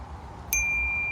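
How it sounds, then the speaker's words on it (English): A single clear bell ding from a new bicycle bell, struck once and ringing on steadily over a low background hum. "It's got a new bell."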